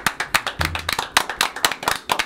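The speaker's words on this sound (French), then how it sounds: "je voudrais que tu entendes les applaudissements sur le plateau" A handful of people clapping in a television studio, distinct close claps in an uneven, fairly quick rhythm rather than a dense crowd wash.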